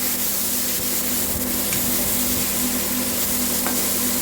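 Fish curry stirred in a hot pan: a loud, continuous frying sizzle fills the whole stretch, with a low steady hum beneath and only a few faint spoon scrapes, no voices.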